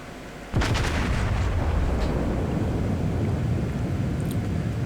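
A warship's broadside in a naval battle game near islands, one heavy, sudden cannon blast followed by a long rolling rumble that lingers loud and alone.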